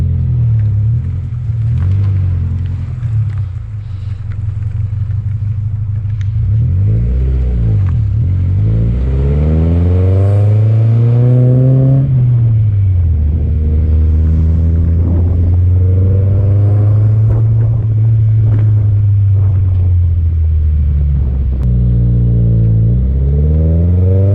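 A car driving after a Seafoam engine treatment, its engine note rising and falling through repeated revs and gear changes, loud and close with a raspy rumble throughout.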